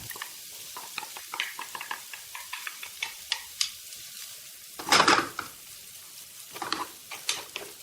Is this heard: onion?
yes